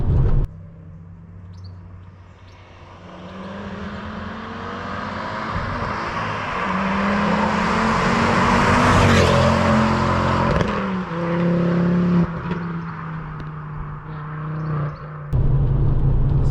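A 2007 Ford Focus ST MK2 with a Stage 1 tune and a five-cylinder engine accelerates hard. The loud, close engine note rises steadily through the revs to a peak, drops back, and builds again, with a deep rumble throughout.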